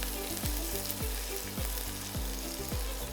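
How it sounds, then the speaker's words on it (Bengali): Chopped onion frying in oil in a pan for a Bengali bean mash, a continuous close sizzle with a rhythmic series of scraping stirs about every half second, no voices. "একটু পেঁয়াজটা একটু ভেজে নিই"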